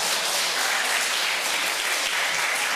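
A church congregation applauding during a Sunday worship service, a steady dense wash of many hands clapping at once, loud and sustained without a break, with no talking over it.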